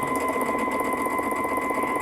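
A Baby Lock Altair sewing machine runs steadily and continuously as it stitches through a single layer of thin tissue, with a close, even mechanical whir and fast rhythmic needle chatter and no talking.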